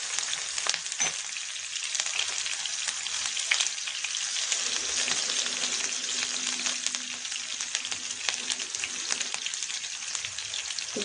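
Green chilies fry in a hot pan with cumin for an aloo paratha filling, giving a continuous, close crackling sizzle with scattered pops and light stirring taps throughout.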